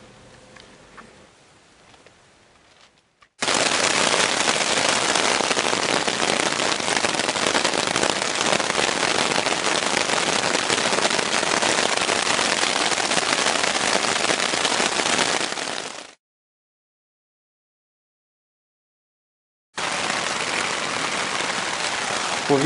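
Rain falls on a tent at night during a bicycle trip around Lithuania, a dense, steady hiss that starts suddenly, runs unbroken for about twelve seconds, drops to silence, then resumes.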